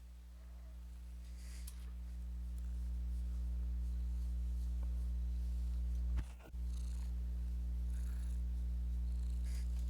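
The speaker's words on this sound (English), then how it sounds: "I don't know if you could hear her purring or not." A cat purrs close by in a steady, low rumbling drone, with a brief rustle partway through.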